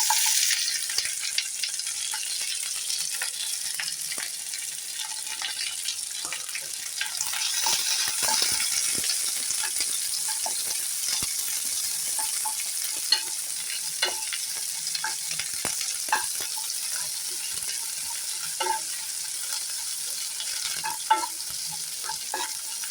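Onions fry in a pan with a constant soft sizzle, and intermittent scrapes and clicks come from stirring throughout.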